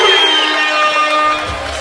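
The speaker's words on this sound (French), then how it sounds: "Applaudissements et encouragements pour les boxeurs" Crowd in a boxing arena in Mons cheering and applauding between rounds, a dense, loud, sustained roar with high whistling tones throughout.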